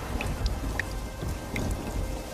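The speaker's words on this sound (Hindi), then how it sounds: "ये बारिश का सिलसिला यूं ही कुछ दिन तक जारी रहता है।" Rain falls steadily in cold weather while thunder rolls low underneath, with scattered distinct drops ticking close by and no one speaking.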